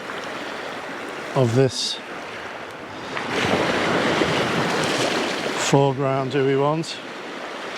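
Water washing through at the shore during a sunset landscape shoot, a continuous rushing surf swelling in the middle, close with some wind buffeting, while someone talks briefly at the start and near the end.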